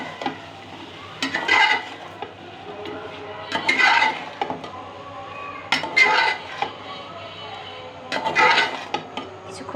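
Chopped snake gourd and okra are stirred into fried prawns in a pan, giving four loud bursts of utensil scraping and clinking against the pan between quieter stretches, with no talking.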